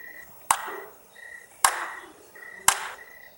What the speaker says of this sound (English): This time it was 3 claps.